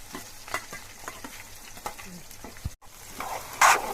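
Curry leaves added to hot oil with onions and green chilies and stirred in a pan, a steady sizzle with scraping stir strokes, close, with a louder hiss near the end.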